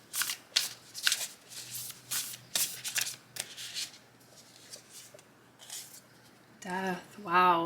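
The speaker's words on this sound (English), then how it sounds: "So I'm gonna pull some tarot cards." Tarot cards are shuffled in repeated quick riffling bursts, close and crisp, and a voice begins talking at the end.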